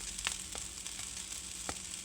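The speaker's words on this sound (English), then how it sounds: "chop up my eggs a little bit" Eggs fry in a pan for fried rice, a steady sizzle running throughout with a few sharp scraping taps as a spatula chops them into small pieces; no voices.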